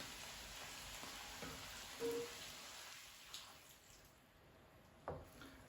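Minced meat for a hachis parmentier frying in a pan, a faint steady sizzle and hiss that thins out partway through, with a few soft clicks and stirring knocks.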